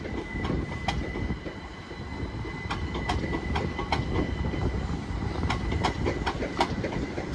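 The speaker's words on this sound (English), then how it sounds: "Great Western Railway service to London Paddington via Reading." Great Western Railway electric train, class 387 units 387-169 and 387-160 coupled, running on Oxfordshire track toward London Paddington via Reading: a steady close rumble of rolling wheels with repeated rhythmic clicks over rail joints, no voices.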